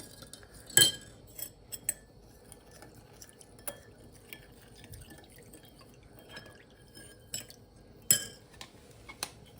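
A spoon clinks against a dish as food colouring is stirred into water, with sharp metallic taps scattered irregularly over quiet background, one or two louder knocks.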